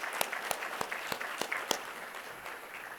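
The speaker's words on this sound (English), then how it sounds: "Let's give that a big round of applause for all the families here to support everyone." Applause from an audience at a police awards ceremony, a steady wash of many hands with a few sharper individual claps standing out, moderately distant and fading slightly toward the end.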